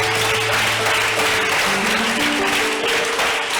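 A church congregation applauds loudly and steadily to acclaim Jesus, with dense sustained clapping and a sustained musical tone beneath it.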